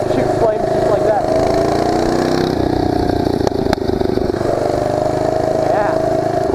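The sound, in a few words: mini bike engine running with flame-shooting muffler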